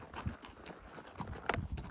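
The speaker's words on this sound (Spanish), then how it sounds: "me voy con mi caballo" A ridden horse's hooves clip-clop in a few uneven strikes, faint and somewhat distant, with only a little background noise.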